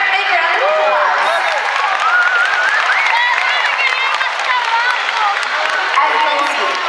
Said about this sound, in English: Go ahead and give yourself a great big round of applause.